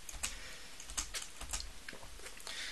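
Computer keyboard typing comes as quick, irregular key clicks, close and fairly quiet, clattering without pause over a soft background hiss, with no one speaking.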